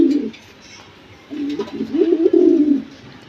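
A pair of military pigeons, a male and a female, coo up close. One short coo is followed by a pause and then a longer, rolling, throaty coo.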